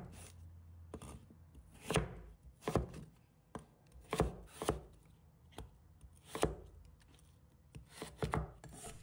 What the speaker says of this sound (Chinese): 下来将红薯切成小块，由于红薯比较坚硬，切的时候可能会有些困难